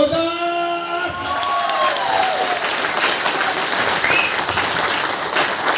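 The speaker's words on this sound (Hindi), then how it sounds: "क्या पुराने लोग इनके लिए एक बार जोरदार तालियां लगा सकते हैं?" Audience in a hotel hall breaks into loud, sustained applause with some cheering, following an opening tonal musical sting, steady and dense throughout.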